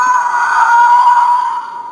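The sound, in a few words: Star Wars TIE Fighter toy swooping-past sound effect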